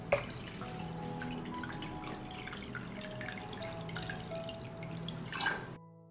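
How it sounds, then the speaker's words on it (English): Water runs steadily into a cooking pot holding glass jars set on a cloth, a continuous close splashing trickle that persists for several seconds before cutting off. "I pour water into the pot up to the height of the lid."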